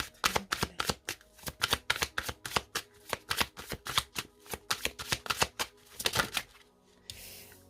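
Sacré-Cœur oracle cards shuffled by hand in a quick, steady run of close riffling flutters and soft slaps, about two dozen bursts over several seconds, then a brief quieter pause at the end; no talking.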